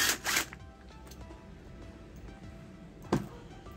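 A tool works a screw loose on a 110cc motorcycle engine, giving short rasping, ratchet-like scrapes at the start and once more near the end, with a quiet background between.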